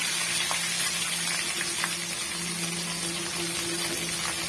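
Steady sizzling of chopped onions sautéing in hot oil, a constant crackling hiss with a faint hum underneath.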